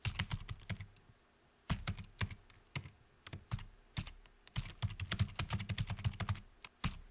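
Rapid bursts of keystrokes on a computer keyboard as code is typed, close and clear, coming in uneven clusters separated by short pauses, with no talking.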